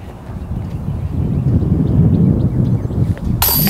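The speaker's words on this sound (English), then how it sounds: "A little windy." Steady wind roars and buffets across an open golf course near a par-three hole in Charlotte, NC, a continuous low rumble of gusts against the microphone, with a brief sharper rustle near the end.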